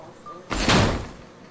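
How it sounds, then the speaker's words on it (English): Sliding elevator doors in the Halo 4 video game open with a single loud whooshing mechanical rush that swells and fades within a second, alone after quiet. "The elevator doors look sealed tight."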